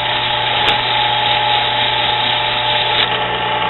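Steady, loud whirring of a spinning metal part for a homemade alcohol stove being smoothed to take off burrs, a continuous machine drone with no pauses.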